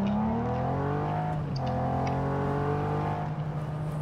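Car in the video game Just Cause driving and revving, a steady engine drone with pitch swells as it accelerates, continuous and fairly close, no talk.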